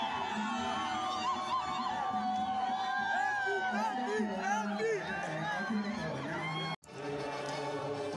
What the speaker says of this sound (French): entrent dans l'église sous les ovations d'une foule au comble de l'émotion